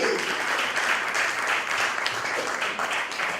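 Steady applause from a crowd, a dense wash of clapping that stays loud and continuous throughout.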